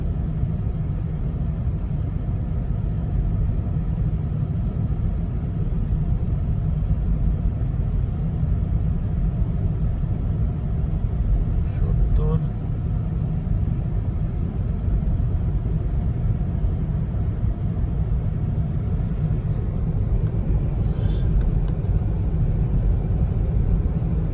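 A car cruising at about 60 on an open road, heard from inside as a steady, loud low rumble of engine and tyre noise with no pauses.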